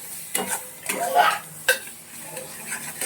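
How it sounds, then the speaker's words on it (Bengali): Ground spice paste with a little sugar is stirred and fried in a pan, giving several distinct scrapes and clinks of a utensil against the pan over a soft, steady sizzle. No one speaks. "এবার ভালো করে সবগুলো নাড়াচাড়া করে নেব"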